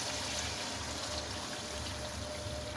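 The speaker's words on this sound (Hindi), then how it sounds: "अब इसमें 1 कप के करीब पानी डाल दें।" Water pours into a pan of mutton liver masala, a soft, steady trickle heard faintly at close range.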